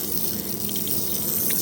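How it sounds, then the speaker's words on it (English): Water spraying across a car engine bay during cleaning, a steady broadband hiss and splash lasting under two seconds, close and continuous with no talk. "Spraying it off a little bit."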